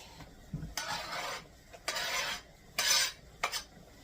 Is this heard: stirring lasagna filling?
yes